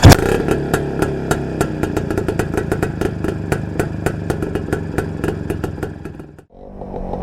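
A Greeves 20 DC Roadster motorcycle two-stroke engine, just kick-started, runs with a loud, close, rapid popping beat that stays steady for about six seconds before cutting out abruptly, then resumes faintly.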